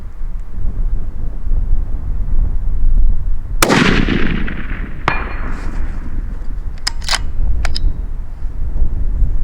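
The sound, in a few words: 6.5 PRC rifle shot hitting a steel plate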